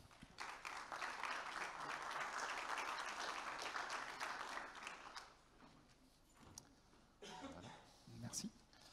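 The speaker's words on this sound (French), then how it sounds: "Je vous demande de les applaudir." Audience applause for a company, Organéo from Metz, at an e-solutions-for-the-planet startup challenge, a dense, steady clapping that fades after about five seconds into murmurs and scattered shorter bursts.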